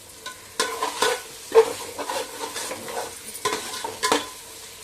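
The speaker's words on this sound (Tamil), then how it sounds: "இப்போ நல்லா அந்த வெங்காயம், தக்காளி, புதினா, இஞ்சி பூண்டு பேஸ்ட்டு எல்லாமே நல்லா வதங்கிடுச்சு" Onion, tomato, mint and ginger garlic paste sauté in oil, with a soft steady sizzle broken by repeated scraping strokes of a spoon against the pan.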